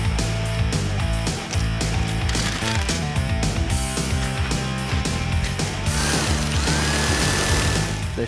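A power shear cutting sheet metal for a console panel on a 1961 Chevrolet Impala: continuous loud mechanical chattering with rapid repeated clicks and a harsh metallic rasp, close and steady throughout.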